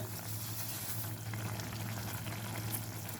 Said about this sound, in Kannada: ಕುದಿ ಬರ್ತಾ ಇದೆ